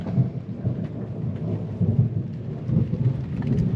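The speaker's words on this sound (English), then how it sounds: "It's still raining a lot at night" Heavy rain pours steadily at night on an anchored sailboat during the wet season in Indonesia, with a deep continuous rumble of thunder-like roar beneath a dense hiss of drops, loud and close.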